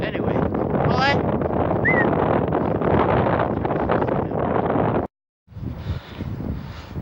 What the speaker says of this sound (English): So it's that windy, my hood won't even stay up